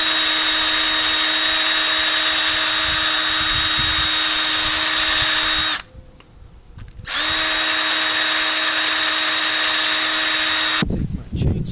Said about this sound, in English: As I move the bit around to make the hole a little bigger